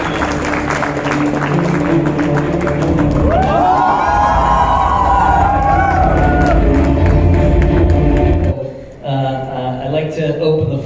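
A crowd at a Mumbai Avengers Endgame press conference gives loud applause with cheering and whoops, sustained and energetic for about eight seconds before dropping suddenly, with music continuing underneath and a voice after.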